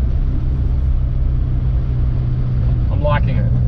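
A 1969 Toyota Corona fitted with a swapped 4AGE engine cruising along, its low steady rumble heard from the cabin, with a short burst of speech near the end.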